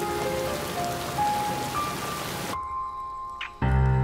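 A heavy downpour falls on the ancient city of Liangzhu, heard as a dense, close hiss of rain that suddenly cuts off partway through and gives way to a quieter scene.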